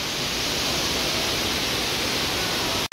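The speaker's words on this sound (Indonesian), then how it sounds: "Di sini ada juga apa tuh, air terjun yang dibuat ya" Man-made waterfall in Hong Kong Park, a dense, steady rushing wash of falling water filling the scene close by, unbroken apart from one momentary cut near the end.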